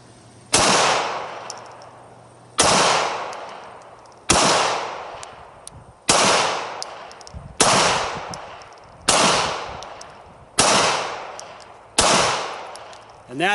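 Eight loud, sharp shots from a Walther P38, the German Army's World War II service pistol, fired one at a time in a slow, even rhythm about one and a half to two seconds apart, each with a ringing decay.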